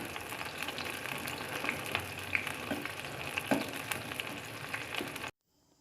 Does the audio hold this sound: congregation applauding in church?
no